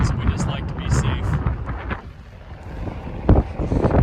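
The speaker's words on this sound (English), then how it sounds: "Windy today." Wind gusting across a farm field during spring planting, buffeting a microphone in loud, rumbling bursts that fade and swell, with a close voice heard briefly over it.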